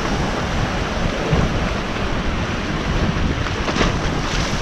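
Sea waves wash steadily against the rocky Croatian coast near Umag, a continuous broadband surge with gusty wind noise on the microphone and no voices, loud and close throughout.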